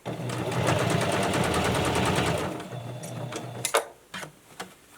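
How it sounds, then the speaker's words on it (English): A sewing machine runs in a steady fast rattling burst, stitching the nose brim across a fitted fabric face mask, then stops, followed by a few small clicks and handling knocks close by. "And I'm going to sew the nose brim across."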